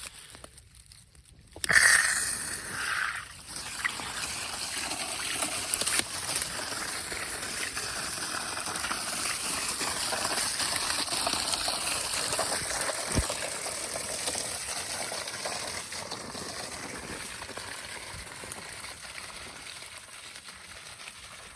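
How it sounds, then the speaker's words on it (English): Water rushes out of a PVC water line through an opened drain valve on a T fitting, starting with a sudden gush and then a steady, loud hissing flow that continues unbroken. "That'll just drain all that water out"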